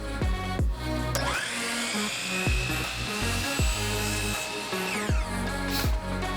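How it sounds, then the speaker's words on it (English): A miter saw spinning up and cutting wood pieces to size, its motor whine steady with sharp thumps and clunks repeating through the cut, close and loud. "take those over to our miter station and cut them to size"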